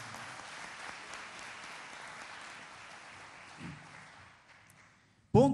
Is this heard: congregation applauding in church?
yes